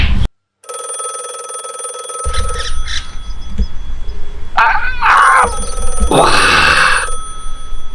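A telephone rings with steady repeating bell tones for several seconds, loud and close, followed by rising electronic trills, in a village home with no one speaking.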